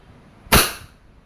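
A single sharp crack from a Wingun 708 airsoft revolver fired double action with plastic BBs, a brief close report that fades quickly in a quiet room.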